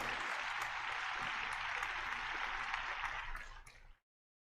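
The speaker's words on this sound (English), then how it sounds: "I'm going to give her a big round of applause." A round of applause, dense steady clapping heard fairly quiet and slightly muffled, running for about four seconds before cutting off abruptly.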